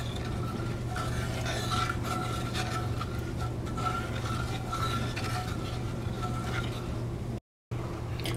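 A spoon scrapes and rubs through a rice mixture in a Dutch oven, a continuous close rasping stir with a low steady hum underneath, pausing for an instant near the end.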